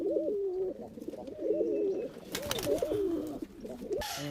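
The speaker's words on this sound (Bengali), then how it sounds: "দেখুন কালদমা পায়রা" Kaldum pigeons released at a loft coo in repeated, rhythmic phrases close by, clear against a quiet background with a brief flutter of noise late on.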